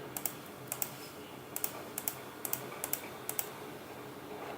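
Data being typed on a computer keyboard, with quiet close clusters of key clicks in short irregular runs over faint background hum.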